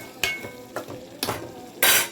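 Bean and dried fish curry being stirred in a pot, four distinct scraping spoon strokes against the metal over a low simmering sizzle, close up and without talk.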